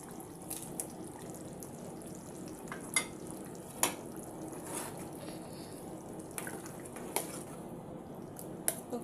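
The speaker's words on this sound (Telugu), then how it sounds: "ఇప్పుడు ఇందులో మనము మామిడికాయ ముక్కలు వేసుకుందాం" Raw mango pieces go into a simmering mango and drumstick curry: quiet, scattered soft plops, drips and squishy stirring clicks over a low bubbling background.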